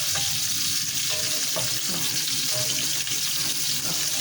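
Chopped onions and peppers sautéing in a pan over medium heat, with a steady, close sizzle and crackle and the occasional scrape of stirring, loud and unbroken with no talk.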